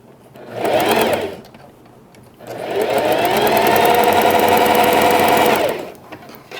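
Sewing machine stitching the side seam of a pet bandana, a short close whirring burst, a pause, then a longer loud continuous run of rapid stitching that cuts off near the end.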